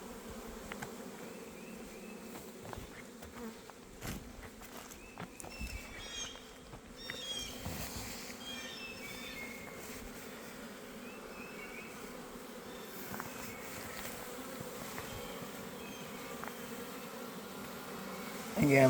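Honey bees buzz steadily around a beehive outdoors, forming a continuous droning hum with occasional closer passes and faint background noise.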